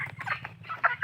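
Chickens being sold for 100 taka each at a market stall cluck and squawk in short bursts close by, with a steady low hum underneath and louder squawks near the end.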